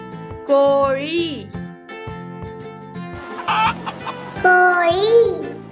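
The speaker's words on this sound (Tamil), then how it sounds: "கோழி" Chicken clucking and squawking in a few rising, harmonic calls near the start and again near the end, loud and close, with child-like speech and a soft musical backing between them.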